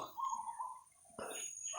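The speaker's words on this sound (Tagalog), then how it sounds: "May mga ingay ng aso sa unahan mga tol." Dogs bark somewhere ahead outdoors, faint and distant, in a couple of short bursts with light bird chirps around them.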